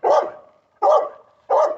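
A dog barks three times in an even rhythm, each bark loud, close and alone.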